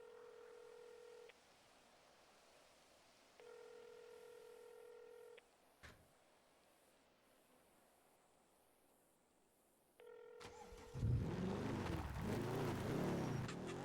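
Phone dialing in the GTA NoPixel roleplay game: a soft repeated electronic tone pattern plays in two bursts separated by quiet, with a click, then louder rushing noise sweeps in at the end.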